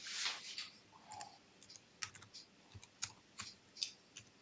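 Faint, irregular clicks of fingers tapping a computer keyboard, sparse keystrokes spaced through a quiet room with soft background noise and no speech.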